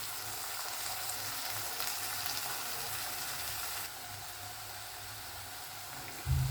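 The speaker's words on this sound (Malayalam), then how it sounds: "ഇനി ടൊമാറ്റോ നല്ല സോഫ്റ്റ് ആകുന്നിടം വരെ ഒന്ന് വഴറ്റിയെടുക്കുക." Capsicum and tomato sauté in a hot pan for Indian-style masala pasta, giving a steady, close sizzle and crackle throughout. There is a brief louder stir or clatter at the very end.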